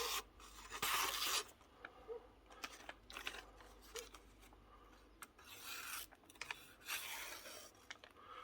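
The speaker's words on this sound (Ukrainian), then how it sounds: "Більше рве бумагу, але все одно ріже." A knife scraping through a sheet of A4 paper, tearing it more than cleanly slicing it. A loud rasping burst comes near the start, followed by a string of short, close scratchy strokes with brief pauses between them.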